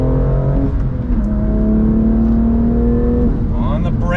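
A BMW M2 Competition accelerates hard in second gear, its engine pulling from low revs with a loud rising drone and harmonics climbing steadily before a brief shift near the end, heard from inside the car.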